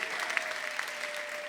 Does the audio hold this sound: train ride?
no